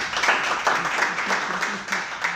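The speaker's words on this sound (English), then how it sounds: "Please clap for Mohammed Salah." An audience claps for a team at a group event, giving a sustained, moderately loud patter of many hands with some voices mixed in.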